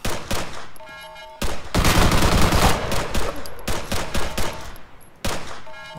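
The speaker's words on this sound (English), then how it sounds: "Well, I shot him in the legs," Loud, close automatic gunfire in Arma 3 comes in several long, rattling bursts separated by brief gaps, with no talk over it.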